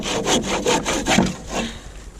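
A hand saw cuts through a wooden roof rafter in steady back-and-forth strokes, about six rasping passes, close and clear with no talk.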